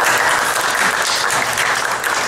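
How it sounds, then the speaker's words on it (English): Loud, dense clapping fills a room as an audience at a Tea Party gathering applauds a speaking assemblyman, a continuous burst with no pause. "You know, you clap."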